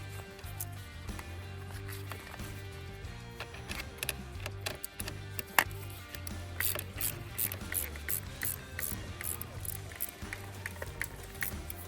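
Wrench ratchets a car battery terminal nut loose, turning counterclockwise, with a steady run of close, rapid clicking over a low mechanical hum throughout.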